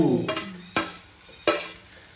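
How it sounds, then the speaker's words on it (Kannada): Capsicum tossed into hot oil and fried in a home kitchen pan, giving a few sharp scraping stirs and clatters over a steady low sizzle, with no talking. "ಈಗ ಫ್ರೈ ಮಾಡ್ಕೊಂಡಿದ್ದು ಕ್ಯಾಪ್ಸಿಕಮ್ ಹಾಕಬೇಕು."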